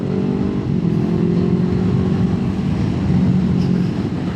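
Kawasaki Eliminator 450 motorcycle out on a ride, its engine droning steadily at a constant pace with dense wind and road rush mixed in throughout, no voices heard.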